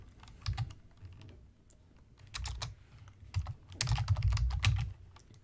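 Someone types an AI prompt on a computer keyboard, with close, crisp keystrokes arriving in quick irregular bursts separated by short pauses.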